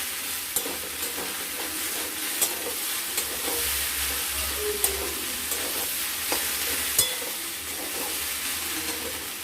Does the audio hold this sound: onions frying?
yes